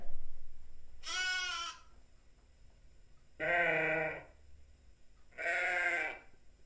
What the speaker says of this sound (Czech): A tohle byla určitě ovečka.